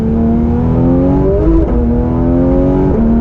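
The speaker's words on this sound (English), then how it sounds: "even at those lower RPMs, when we give it a shift down, I mean, they're just so fast" A Porsche 911 with a PDK gearbox revs hard from inside the cabin, its loud engine drone climbing and then dropping sharply with quick downshifts, with no talking.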